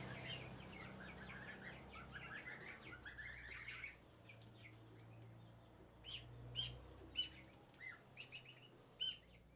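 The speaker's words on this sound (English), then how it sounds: "So these are my meat birds." Twenty-five two-week-old meat chickens in a coop chirp and cluck, soft high peeps that cluster densely at first and then come as scattered sharper calls over low background rustling, fairly faint and with no talking.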